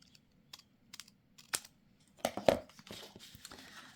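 Scissors cutting the top off a paper strip for a journal craft: a few faint, crisp snips spaced apart, then a closer cluster of crunchy cuts and rustling near the end.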